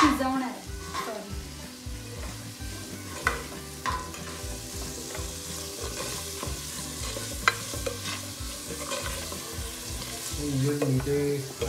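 Shredded cabbage fries in oil for veg hakka noodles while a utensil stirs it, producing continuous sizzling with repeated clicks and scrapes against the pan, close and busy, with no talking.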